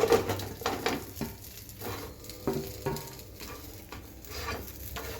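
Pieces of masala-coated fish fry in a hot pan over a low flame. A steady close sizzle is broken by repeated stirring and turning scrapes.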